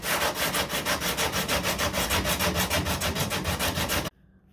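Steady rhythmic rasping of sanding old dripped resin flat on the fiberglass body of a 1969 Corvette C3, fast even back-and-forth strokes close up and loud, stopping abruptly near the end.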